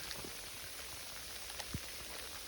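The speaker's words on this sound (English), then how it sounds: "Now, it has turned into sleet right about now. It's not really raining, it's sleeting." Sleet comes down in a snowy winter apiary with a faint, soft patter of scattered ticks over a quiet hiss, a few individual hits standing out.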